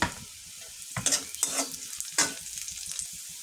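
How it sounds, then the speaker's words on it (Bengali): Garlic and onions fry in a pan, an ongoing soft sizzle broken by several bursts of stirring and scraping with a spatula, close and quiet, with no voices. "এখন রসুন পেঁয়াজগুলো ভালোভাবে ভেজে নেব"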